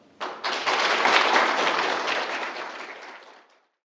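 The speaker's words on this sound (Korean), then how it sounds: "큰 박수로 모시겠습니다" Audience applause welcoming a university professor to a seminar lecture, starting abruptly, swelling into a full steady clapping for a few seconds, then tapering off to silence.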